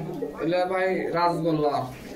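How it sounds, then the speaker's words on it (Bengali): A pigeon at a pigeon seller's coop gives a soft, close cooing call in a few rolling pulses, with a faint voice nearby. "এই যে এটা ডাকে, সব কবুতর ডাকলে ভালো লাগে"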